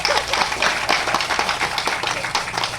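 An audience applauds with steady, dense clapping from start to finish, loud and close.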